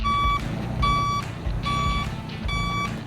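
A truck delivering diesel drums at Puerto Princesa in the Palawan Islands reverses, its backup alarm sounding four evenly spaced loud beeps over low engine rumble.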